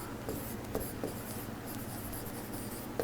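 Pen or marker writing on a board or paper during an English grammar lesson, faint scratchy strokes with occasional light taps over steady background noise, no talk.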